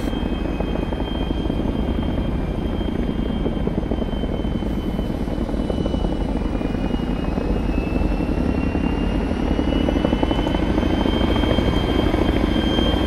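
A military helicopter in a multiplayer war game thumps loudly and continuously, its steady rotor drone and engine whine filling the whole stretch with no talk.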